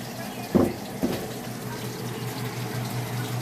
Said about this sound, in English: I'm going to add a little bit more milk to my cheese sauce.